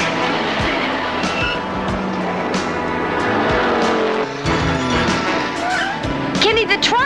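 Car skidding through a handbrake turn, the engine roaring steadily with tires scrubbing and a brief squeal near the end, loud and close, with voices mixed in.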